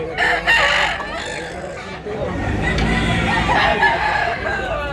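One cock crows and others answer across the crowded Sunday rooster market in Tabunok, Talisay, Cebu, over a dense wash of voices and market noise.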